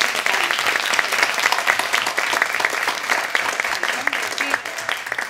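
A Greek audience applauds at a literary evening: sustained, thick clapping from many hands fills the room at an even level throughout, with faint voices mixed in.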